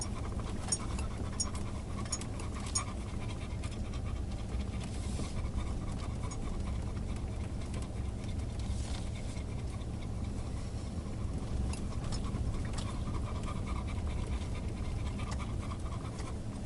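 Bella, a dog, pants steadily in the dry 33-degree heat, a continuous rapid breathy rhythm heard close against a constant background rumble.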